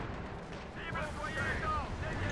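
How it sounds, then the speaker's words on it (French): Cannon fire in the Company of Heroes 2 strategy game: rumbling battle booms and blasts roll on steadily beneath overlapping talk, moderately loud throughout. "tu prends un tir de canon là."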